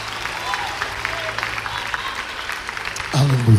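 A church congregation at an evangelical service claps together in steady, moderate applause, with a voice speaking over it and a louder burst near the end.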